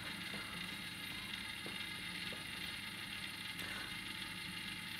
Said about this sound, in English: You see, the valve